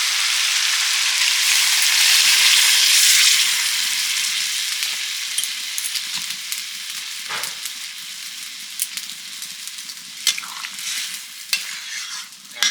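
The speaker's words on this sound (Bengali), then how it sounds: "যাতে ফোড়নটা ভালো ওঠে চক করে উঠবে একদম" Loud, hissing sizzle as a spice tempering hits hot oil, followed by boiled peas and potato, gradually settling into quieter frying with occasional scrapes and crackles close at hand.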